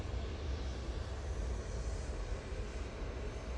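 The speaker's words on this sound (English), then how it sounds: "Mike K saying that the Etihad is out in the taxi" An Etihad airliner taxis at Manchester Airport, its engines giving a steady, continuous low rumble and broadband roar that holds at an even level throughout, with no voices.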